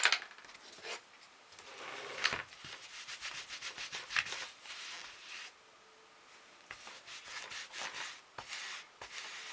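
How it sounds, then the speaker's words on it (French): Soft, uneven rubbing and scrubbing while a craft rubber stamp is cleaned, in quick bursts with short pauses, close and fairly quiet. "je vais nettoyer tout de suite mon tampon"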